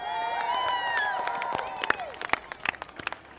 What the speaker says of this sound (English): You guys are applauding because I'm the last speaker, right?